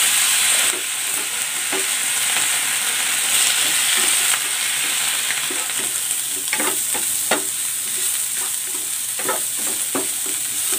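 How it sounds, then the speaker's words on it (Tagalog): Pork stir-frying in hot cooking oil gives a steady, loud sizzle throughout, with irregular clicks and scrapes from stirring that grow busier toward the end. No one talks. "I-stir fry ko muna itong pork."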